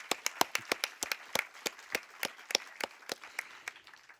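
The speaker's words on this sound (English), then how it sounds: "Just a big round of applause." Sparse applause for faculty members at an academic event, made of distinct individual claps in an irregular, fairly close rhythm that thins out toward the end, with no talk over it.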